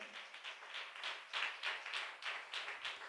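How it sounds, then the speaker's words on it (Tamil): A church congregation claps hands in praise, a quick rhythmic series of soft, somewhat distant claps in an even beat, with no talking over it. "நல்ல கைத்தட்டி கர்த்தருக்கு ஸ்தோத்திரம் செலுத்துவோம்"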